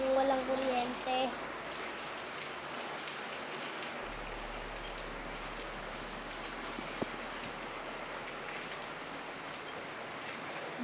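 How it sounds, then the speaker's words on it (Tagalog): Soft, steady rain patters as a diffuse hiss, with a faint brief voice at the start and an occasional isolated drip or tap. "Buti mahina lang ulan oh."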